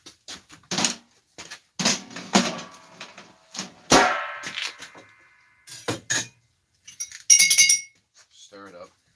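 A spoon clinks repeatedly against a glass while stirring chia seeds into water, sharp bright taps in irregular bursts between stretches of quiet, with a voice speaking in the gaps.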